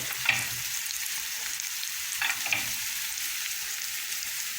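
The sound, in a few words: stirring garam masala and coriander into frying tofu curry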